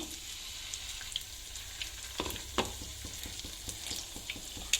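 Jackfruit fritters (bajji) frying in hot oil over a well-stoked fire, a steady close sizzle that swells as the pieces drop in, with a run of soft rhythmic bubbling pops; no one speaks.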